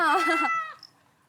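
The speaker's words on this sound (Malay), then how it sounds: "Bunyi kucing." A recorded cat gives one clear, drawn-out meow that fades away, played back at moderate volume with no talk over it.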